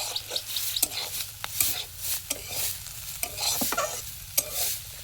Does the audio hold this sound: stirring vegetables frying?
yes